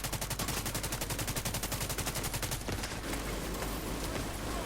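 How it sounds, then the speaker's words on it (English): Rapid automatic fire from a Fenris assault rifle in a shooter video game, a steady loud burst of evenly spaced shots for about two and a half seconds, then a dense crackling barrage of gunfire and effects. "Fenris. So this is assault rifle."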